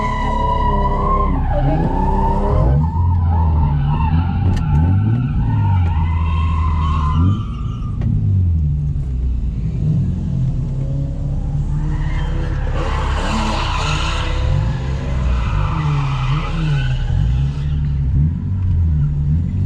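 A drift car skids around Archfield Drift Track, its tires squealing loudly and continuously while the engine revs and shifts pitch through repeated slides. The sound stays up close for the whole stretch, with no talk over it.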